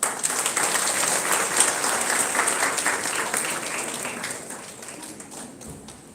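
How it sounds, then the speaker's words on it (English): An audience at an engineering college gathering claps to welcome guests, a dense and lively round that gradually tapers off over several seconds. "Let us welcome them all with a warm round of applause."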